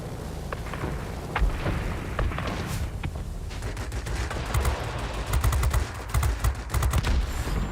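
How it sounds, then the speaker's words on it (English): Bursts of rapid machine-gun fire from a P-61 Black Widow in World of Warplanes, loud clattering volleys coming in repeated clusters, growing denser toward the end over a rumbling engine drone. "Terrific accuracy on the guns."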